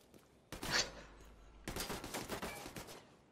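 Gunfire in The Division 2 crackles in two bursts: a sharp volley of shots around half a second in, then a longer stretch of rapid, uneven shooting, fairly loud and close.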